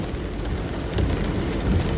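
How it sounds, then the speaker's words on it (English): Steady rain falls outside with a constant broadband hiss, a moderately loud wash with slight swells in intensity and no voices. "But it's raining"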